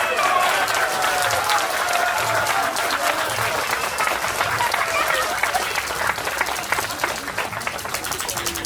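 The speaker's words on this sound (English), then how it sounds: "Applause for her, okay?" Steady applause from a crowd, loud and continuous throughout, with a voice speaking over the clapping.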